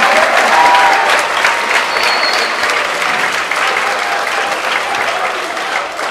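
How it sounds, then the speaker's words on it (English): At a jazz festival, an audience breaks into loud, dense applause for young jazz musicians, a sustained crowd of clapping hands with faint scattered voices underneath, easing off slightly toward the end. "give yourselves a round of applause."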